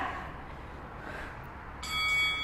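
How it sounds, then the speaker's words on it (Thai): A bell rings out at the end of a timed interval during a fast-paced home workout, a bright sustained ring entering near the end over steady background noise. "รอเสียงกระดิ่งกันนะคะ"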